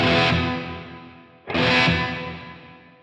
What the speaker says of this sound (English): Let's listen to that reverb decay.